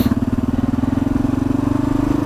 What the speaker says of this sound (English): pull the clutch in, put it in gear, give it a little throttle, off we go.